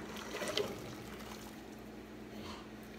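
Vegetables and hot water poured into a colander set in a pan, blanched for dehydrating, give a faint, steady liquid trickle and splash that peaks briefly early on, then a soft, continuous wash of water close by, with no talking.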